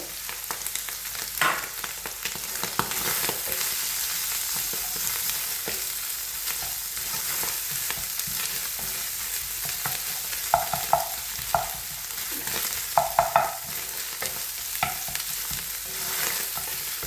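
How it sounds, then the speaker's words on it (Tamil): Tinned fish cutlet mixture sautéing in a pan, a constant crackling fry with scattered spatula scrapes and knocks against the pan, louder clatter near the end, no speech. "ஒரு கொஞ்சம் நேரம் நல்லா வதங்கணும்"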